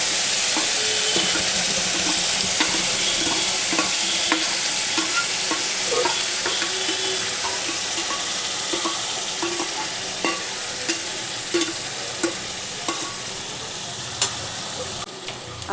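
Bottle gourd peel paste with turmeric fries in a pan, giving a loud, dense, continuous sizzle close by, with occasional small clicks and scrapes of stirring and no voices.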